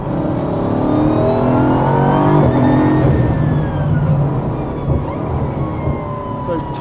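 A 1600 hp Bugatti at full throttle gives a loud, sustained engine roar that climbs steeply in pitch and then drops away as it shifts, close and continuous throughout.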